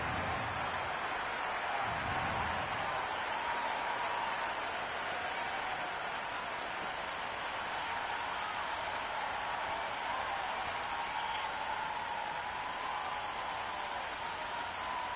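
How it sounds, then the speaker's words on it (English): Cricket crowd in a PS5 video game, a steady broad roar of cheering and applause from a large stadium audience, sustained and even throughout with no voices standing out. "already the crowd is up and about"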